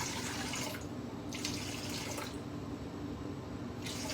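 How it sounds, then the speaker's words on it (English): 250 grams of cold water pours and splashes steadily into a container nearby for einkorn sourdough bread, a continuous rushing stream that briefly changes tone as it fills. "Now we need some cold water. 250 grams of cold water."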